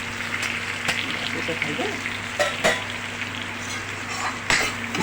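Fenugreek, nigella seeds, cumin and chopped ginger sizzle steadily in hot oil, with occasional sharp clinks of a stirring utensil against the pan and a brief spoken remark.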